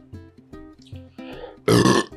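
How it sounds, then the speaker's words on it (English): A person lets out a loud, close, drawn-out burp after a stretch of low, voiced grumbling sounds. "You've got to get your burp out before you start."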